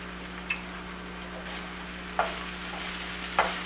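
Onions frying in a pan give a faint, steady sizzle, broken by a few light stirring clicks against the pan.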